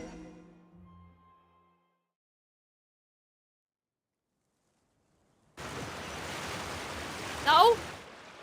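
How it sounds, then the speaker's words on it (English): Water in the Genshin Impact game, heard as a sudden steady wash of flowing water that starts after a brief silence, with talk and a faint tone fading out at the beginning. "Oh my god, I just heard the water."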